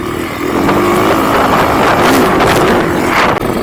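Chinese CG motorbike engine idling after a Nibbi PWK carburetor install, a loud steady buzzing putter with heavy wind rumble on the microphone, close and continuous.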